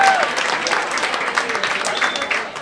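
Comedy club audience at The Comic Strip in NYC applauding comedian Vic Henley, steady dense clapping close by for the full stretch, no voices over it.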